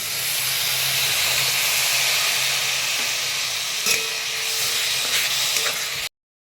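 Milk poured over grated coconut in a hot pan sets off a loud, steady close hiss and sizzle with faint stirring scrapes, then cuts off abruptly.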